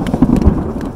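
A close thunder clap during rain in a wilderness camp: a short, loud, low rumbling crack with dense, spattering raindrops, no voices.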